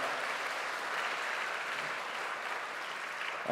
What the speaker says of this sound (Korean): 감사와 격려의 박수 부탁드리겠습니다